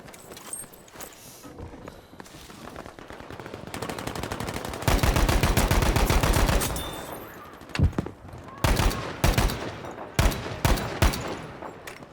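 Gunfire in Battlefield 5, a World War II shooter, with scattered single shots giving way to a sustained loud burst of rapid automatic fire, then several heavy separate shots and clatter, close and intense.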